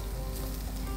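Onions sizzle and fry in a pan for prawn thokku, a dense steady crackling hiss heard close up with no speech.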